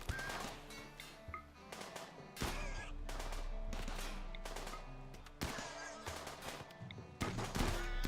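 Automatic turret in the colony game RimWorld firing bursts of rapid gunshots, loud and sustained in several long volleys amid other battle noise.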